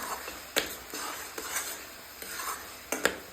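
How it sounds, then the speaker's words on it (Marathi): Grated coconut is stirred into sugar syrup for coconut vadi. A soft, continuous bubbling hiss is broken by a few sharp clinks of a spoon against the pan, close and moderately quiet, with no talking. "पाकामध्ये आपण खिस मस्त असा मिक्स करून घेऊ"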